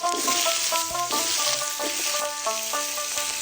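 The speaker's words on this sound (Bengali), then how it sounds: "অল্প একটু হলুদ দিয়ে আলুগুলোকে বেশ ভালোভাবে ভেজে নিতে হবে" Potatoes frying in oil with a little turmeric, producing a loud, continuous, close crackling hiss that holds steady throughout with no clear pauses.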